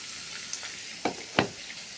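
Chopped garlic, onion and green chilli fry in a pan with a steady soft sizzle, punctuated by a few brief louder crackles and stirring clatters, close by and without talk.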